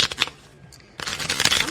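Tarot cards are shuffled in quick riffling bursts, a brief flutter, then a pause and a longer, denser run of crisp card slaps close to the microphone.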